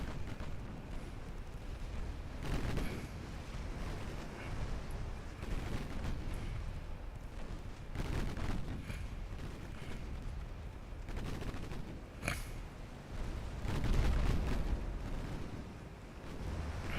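Naval gunfire and explosions in the Ultimate Admiral Dreadnoughts game, repeated heavy booms at irregular intervals over a rumbling sea-like background, with a few sharper cracks.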